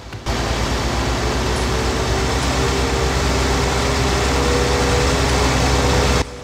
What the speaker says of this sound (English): Nice engine sounds, got that like whisper on it.